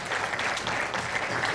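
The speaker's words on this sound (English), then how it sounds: "A round of applause for them, please." Audience applause at a capital markets REIT toolkit launch fills the room, a steady dense patter of many hands, fairly distant and unbroken, with no voices over it.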